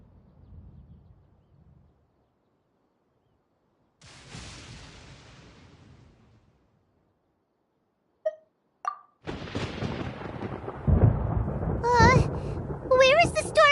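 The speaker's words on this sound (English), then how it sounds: "Paimon hears thunder!" Thunder in Genshin Impact rolls in as two low, distant rumbles separated by quiet, followed by sharp game effects and busier sound with what seem to be voices.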